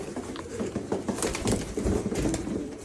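Siirt pigeons in a loft coo softly amid scattered wing flutters and shuffling, close by and moderately quiet, with no voices.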